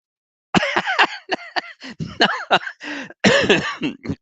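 A string of harsh, throaty coughs and throat-clearing bursts from a person with a cold, close and loud, coming in quick irregular fits with short pauses between them.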